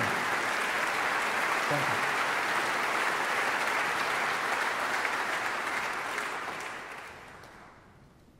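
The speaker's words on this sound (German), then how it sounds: "vielen Dank für den Applaus" Dense, loud concert audience applause at a live opera benefit gala for Ukraine, steady throughout before tapering off near the end, with a brief spoken thank-you.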